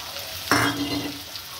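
Chopped onion hits hot oil in a pan with a sudden loud sizzle that flares up and then settles into a steady frying hiss, close and alone.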